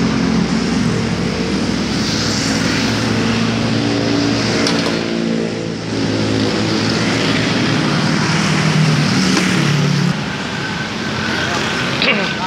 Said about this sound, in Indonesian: knalpotnya suaranya agak berbet